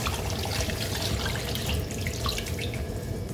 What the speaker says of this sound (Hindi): चार गिलास इसमें हम पानी शामिल कर देंगे